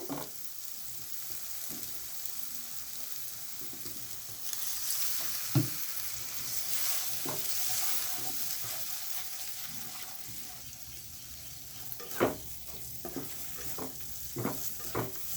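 Shrimp curry masala being sautéed in a pan with a little water, a steady soft sizzle under occasional spoon-on-pan stirring scrapes and clinks, close and moderately quiet, with no talking.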